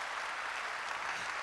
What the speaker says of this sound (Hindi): चलो एक जोरदार तालियां सबके लिए, जोरदार तालियां, जोरदार।